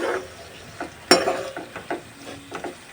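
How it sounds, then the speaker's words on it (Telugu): A spoon stirs tomatoes into gongura chicken curry in a hot pan. The sound is a close, loud scrape with clinks against the pan, followed by several softer stirring strokes over a low sizzle, with no talking. "ఇలా మొత్తంగా టమాటోస్ వేసేసుకొని కొద్దిగా కలుపుకుందాము"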